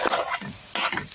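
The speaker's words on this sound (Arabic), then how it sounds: "هنقلبهم برضه وتديهم تشويحه" Liver and gizzards stir-fried with cumin, coriander, paprika and pepper, giving a steady sizzle with two bursts of scraping stirring, close and fairly loud, with no voices.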